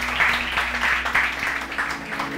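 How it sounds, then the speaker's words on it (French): Audience applause for a finalist at a summer singing contest final, a brief, loud burst of many people clapping, with an electrical hum beneath it. "Il s'agit de Shinaidine Bossou, qu'on applaudit,"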